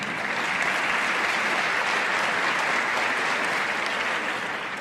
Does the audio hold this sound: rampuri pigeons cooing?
no